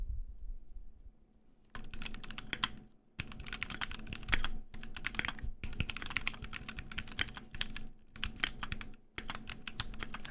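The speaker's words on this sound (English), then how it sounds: "I start typing something actually" Steady bursts of typing on a computer keyboard, rapid close clicks in several runs separated by brief pauses, fairly quiet and with no voices.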